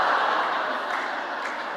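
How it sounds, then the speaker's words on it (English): Audience applause fills a worship service, a steady wash of many hands clapping that stays fairly loud and even before easing off slightly. "We can clap for that."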